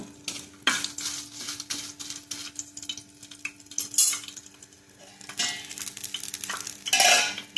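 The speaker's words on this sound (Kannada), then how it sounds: "ಎಣ್ಣೆಗೆ ಮುಂಚಿ ಬಾಡಿಯ ಮುಂಚಿಲಾಯಿ ಫ್ರೈ ಆವಡು" Dried chillies frying in oil for Tulu-style uppudu pachir, a soft sizzle under repeated scraping and stirring of a metal utensil against the pan.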